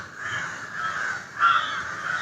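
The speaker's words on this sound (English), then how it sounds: "I'm having more than usual competition from the crows today." Crows caw outdoors after a rainy day at a yoga centre in Puducherry, several loud harsh calls overlapping in a continuous chorus close by.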